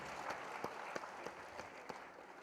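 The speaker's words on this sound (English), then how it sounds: "Please give us a round of applause." Faint applause from an audience at a 25th anniversary celebration, a soft, even patter of many hands heard from a distance, with a few louder individual claps punctuating it at regular intervals.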